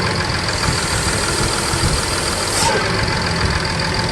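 A Mercedes engine with a turbo limp-mode fault idles while a hand covers its vacuum hose, producing a loud, steady, close-up mechanical drone that runs unbroken throughout.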